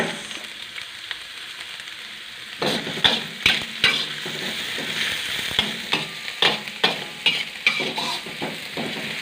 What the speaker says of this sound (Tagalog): Sunod natin si sibuyas.